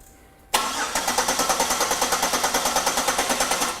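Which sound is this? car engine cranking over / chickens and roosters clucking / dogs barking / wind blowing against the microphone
car engine cranking over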